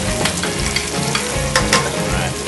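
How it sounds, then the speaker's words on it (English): Potatoes fry in oil in a pan with rosemary, a loud, close, continuous crackling sizzle full of dense bubbling pops throughout. "My potatoes are still bubbling, frying up nicely."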